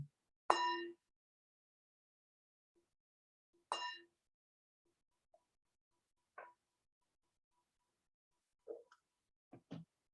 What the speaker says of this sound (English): I'll ring the bell just to invite us to move into a meditation